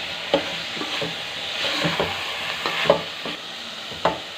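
Khoya barfi mixture for boli milk barfi, dried and browning in a pan, with a spoon scraping and pressing it in several distinct knocks over a steady low sizzle, close and alone.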